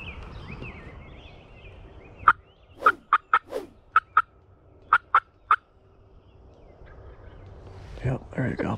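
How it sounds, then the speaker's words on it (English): A wild turkey gobbler sounds off during a hunt with a quick string of sharp, rattling gobbles, about eight bursts clustered over a few seconds, clear against a quiet outdoor background. "Yep, there he gobbled right there."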